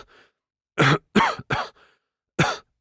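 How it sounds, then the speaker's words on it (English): Four hard, separate coughs, one of them a rough double burst, spaced out by short pauses, close and loud, performed by a voice actor in a dramatized story, with faint breaths between. "How long have you had that cough?"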